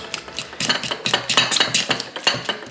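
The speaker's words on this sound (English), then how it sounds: "I'll just keep scraping until you get the avocado" A fork tip scrapes repeatedly at avocado flesh for guacamole, making quick, rhythmic, close-up scratching strokes with no talking.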